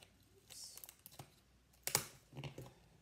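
Tape being pulled and pressed onto a recycled can bird feeder, a few faint close clicks and crinkles with one sharper rip, no talking.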